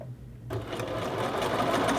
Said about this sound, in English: Doing the same thing, just applying some pressure, pulling on that collar as I sew